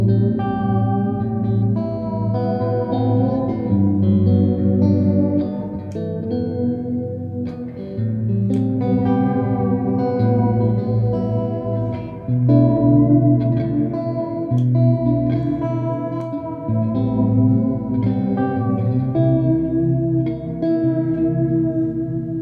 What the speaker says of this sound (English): As I start bringing it back up, you get a lot of reverb.